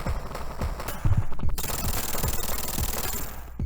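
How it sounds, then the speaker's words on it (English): Building explosion in the Sonic 3 video game's Launch Base stage: a loud, dense rattle of rapid blasts over the game's music, ending in a sustained crackling roar. "Building explodes."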